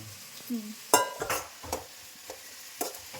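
Food frying in a pan with a soft sizzle, broken by several sharp clinks and scrapes of a spoon stirring against the pan, fairly quiet and close.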